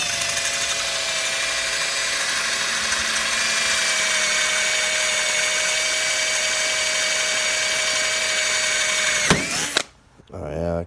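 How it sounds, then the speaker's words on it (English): A power drill boring a 1/2 inch hole through a cap for a homemade boost leak tester, whining steadily and loudly for several seconds before the bit breaks through and the motor spins down abruptly. "So I'm gonna drill a hole in that. 1/2 inch, see if it works."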